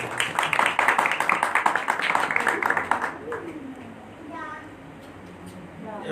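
Rhythmic hand clapping from a congregation during an all-night Christian prayer service, a steady run of claps for about three seconds that stops, leaving a quieter stretch with faint voices.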